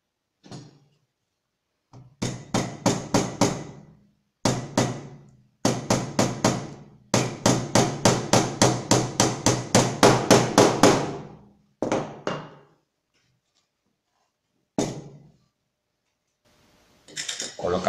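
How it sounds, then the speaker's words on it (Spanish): Small nails are hammered into an MDF shelf with bursts of rapid, close, crisp taps, mostly alone with short pauses between bursts, the longest run steady and quick, then a few isolated knocks. "Podemos apoyarnos un poquito así y colocamos nuestro primer clavito."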